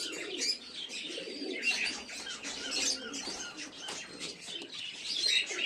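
Giribaz pigeons of the Najra Kaldama breed coo and chirp in a loft at night, a busy overlapping mix of soft calls and rustling from several birds nearby.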